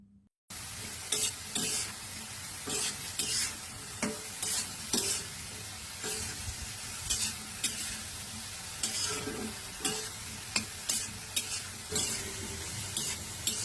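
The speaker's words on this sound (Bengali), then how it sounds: "তারপর আলুটা আমি ভালোভাবে ভেজে নিব।" Potato pieces fry in hot oil in a pan while being stirred, for a Bangladeshi beef and potato stir-fry. A constant close sizzle runs throughout, broken by repeated clinks and scrapes of the spatula stirring.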